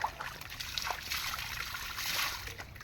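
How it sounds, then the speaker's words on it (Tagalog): Spring water trickles and splashes steadily from its outlet in a wooded area, a continuous close-up flow with a bright hissing texture and no talking. "ganyan naman yung nilalabasan ng tubig dyan sa loob yan"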